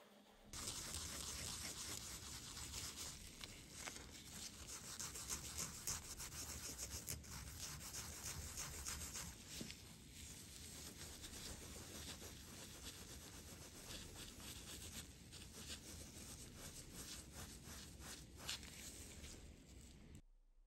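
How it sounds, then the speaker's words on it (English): Close, continuous scrubbing as a laser-engraved metal coin is wet sanded by hand with a Scotch-Brite pad, with a steady rough rubbing that keeps going for about twenty seconds. "I'm using a Scotch pad here. And what I'm going to do is just basically wet sand this."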